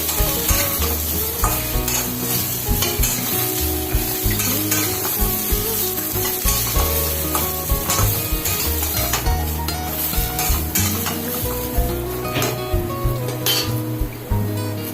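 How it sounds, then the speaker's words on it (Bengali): Sweet potato, bitter gourd and eggplant fry together in a pan for a Bengali dudh shukto, with a continuous sizzle under repeated scraping and clattering strokes of a spoon stirring against the pan, close and busy throughout. "এবার আমি বাকি সবজিগুলো ছেড়ে দিচ্ছি এখানে রাঙা আলু ছাড়লাম উচ্ছেগুলো ছেড়ে দিলাম বেগুন ছেড়ে দিলাম এবার সব একসাথে নাড়াচাড়া করছি"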